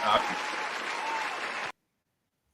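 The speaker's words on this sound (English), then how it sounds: "That was applause for the idea." A small group claps briefly during a casual show, a short burst of applause that cuts off abruptly into silence.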